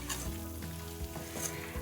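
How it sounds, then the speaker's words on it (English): Onions and flour frying in a pan for onion gravy, a close, continuous sizzle with soft stirring scrapes, brief and without speech. "I'm going to mix this in really well, making sure that all the onions are coated properly"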